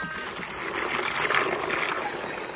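Water poured out for Silkie chickens, a steady trickling splash running close by for the whole stretch, swelling slightly midway, with no talking over it.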